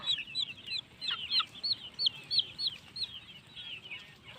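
Several chickens cluck and chatter in quick, overlapping bursts, fairly close, over a steady outdoor background hum.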